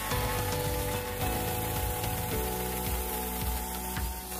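A cordless Violeworks 88Vf mini chainsaw cuts through thicker, harder wood, giving a loud, continuous buzzing whine from up close, with the motor's pitch dipping and recovering several times as the chain bites.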